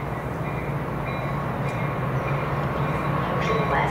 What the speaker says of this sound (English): West train number 21 to Melbourne is now arriving.